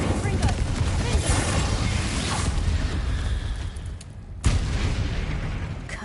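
Confringo fire spell blasts in the video game Hogwarts Legacy, dense crackling booms and bursts filling the scene, with a sharp fresh impact near the end, loud and close over a busy combat backdrop.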